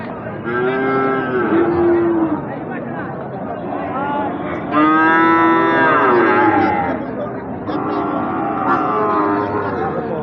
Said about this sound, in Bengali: এখানে দেখছি একটি শাহিওয়াল জাতের সার বছর